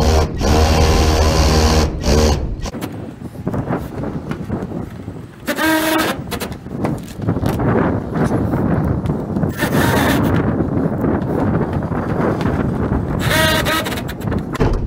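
Power drill driving screws into a metal roof while installing a whirlybird vent, loud whirring bursts with pauses between them, close to the microphone with wind noise.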